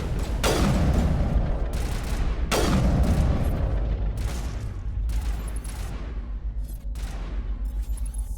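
Gunfire in the Mass Effect 1 video game: several heavy booming shots with decaying tails, then a run of lighter rapid reports, loud and close with no voices.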